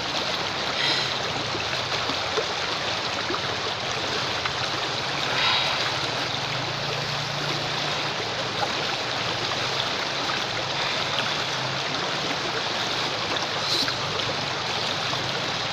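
River water rushes in a steady, loud, dense wash of broadband noise that stays constant throughout with no talk over it.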